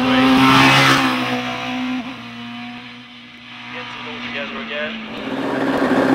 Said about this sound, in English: all the cars have motorcycle engines